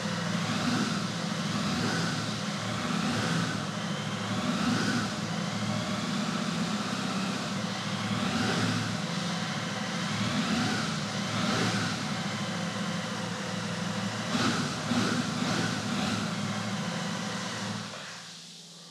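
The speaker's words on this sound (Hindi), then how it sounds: "एग्जॉस्ट का जो नोट है उसमें एक लीनियरनेस है मैं थ्रॉटल लेता हूँ हल्का सा पहले" A Royal Enfield Super Meteor 650 twin rumbles steadily at light throttle, its exhaust note a constant low drone with mild swells and no voice, fading out near the end.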